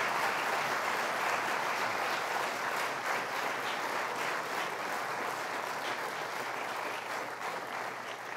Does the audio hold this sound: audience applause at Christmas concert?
yes